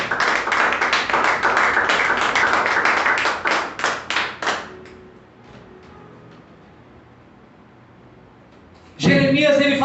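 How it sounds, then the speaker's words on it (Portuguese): A church congregation claps together in loud, steady applause that fades out around the middle, followed by a quiet stretch and then a sudden burst of renewed clapping at the end. "Você pode dar um aplauso ao Senhor por isso?"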